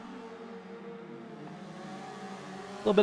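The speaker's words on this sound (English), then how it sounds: "flame out the exhaust on the overrun during the downshift into that hairpin" A Mazda RX3 race car in the Forza video game runs with a steady engine drone on the overrun, then sharp exhaust pops crackle near the end as it downshifts into a hairpin.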